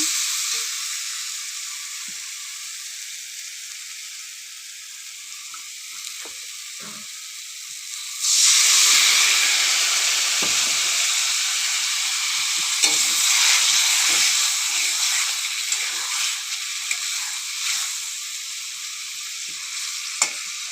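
Masala spices frying in a pan as they are stirred. A faint hiss grows into a sudden, loud, bright sizzle partway through, which then crackles on steadily with a few small clicks from the stirring.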